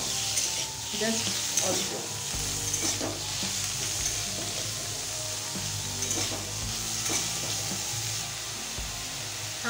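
Shrimp fry in a small amount of oil with a constant bright sizzle and intermittent stirring knocks against the pan, while a voice briefly speaks over it.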